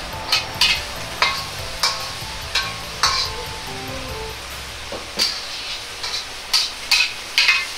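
Beaten egg fries in a pan for crab omelette, with a steady soft sizzle punctuated by regular clicking taps and scrapes of a spatula against the pan.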